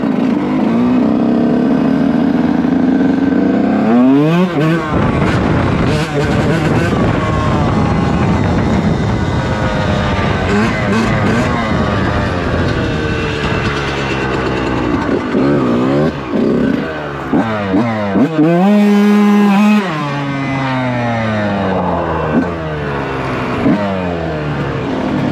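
A Yamaha YZ 125 two-stroke dirt bike on cross tyres runs loud and close, its engine revving up and down repeatedly through throttle changes and shifts, with no talk over it.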